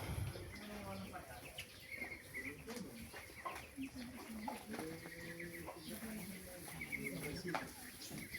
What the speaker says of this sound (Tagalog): Yan pa bagong papisa na bibi oh.